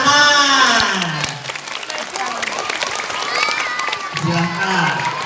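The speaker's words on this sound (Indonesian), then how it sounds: "Tepuk tangan." Audience applause and cheering for students at a school Maulid Nabi and National Santri Day celebration, loud and sustained, with a voice and children's cheers rising over the clapping.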